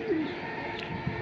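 A caged pigeon gives one faint, short, low coo near the start, over quiet background noise.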